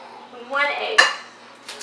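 Ground turkey mixed in a bowl with a clove of garlic, salt and an egg, giving a brief scrape and clink of a utensil against the dish, with one sharper knock near the middle and no talking.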